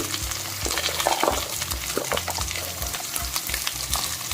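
Sliced onion and green chillies sizzling in a pan, a dense continuous crackle with faint stirring scrapes and no talk.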